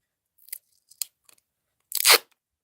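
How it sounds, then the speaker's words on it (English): Stubborn piece of tape being peeled off a sketchbook collage spread: a few small crinkly tugs, then one loud ripping pull near the end, close and alone with no talk. "This piece of tape is stubborn."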